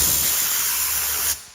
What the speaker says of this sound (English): You flip it over, get your air gun.